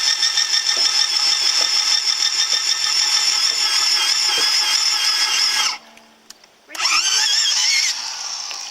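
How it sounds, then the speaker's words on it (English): A loud, steady whine of a drill runs close up during a housebarn restoration, cutting out briefly partway through before starting again at full speed. "With your hand drill."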